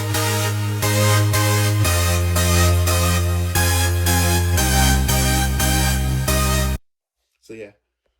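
A layered cascade synth lead built in Ampify GrooveBox plays a bright, pulsing chord pattern for several seconds, then stops abruptly, leaving near silence with one faint blip.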